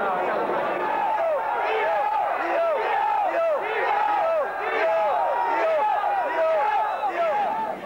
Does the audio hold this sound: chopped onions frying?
no